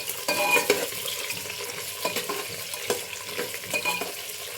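Onions fry and get stirred in a pan with a few salt and curry leaves nearby, giving a steady close sizzle broken by scraping and clinking strokes of a utensil.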